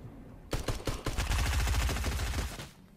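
A gun fires in Fortnite: a few separate shots, then a fast rattling automatic burst at moderate loudness that trails off into quiet.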